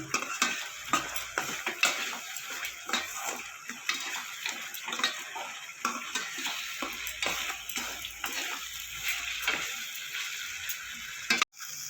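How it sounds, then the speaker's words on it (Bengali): Spice masala with Kashmiri chilli powder being sautéed in a pan, a soft sizzle broken by repeated spoon scrapes and stirring strokes throughout, close and fairly quiet, no voices. "এবার মশলাটা আমি ভালো করে কষিয়ে নেব।"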